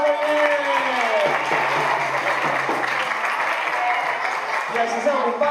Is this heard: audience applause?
yes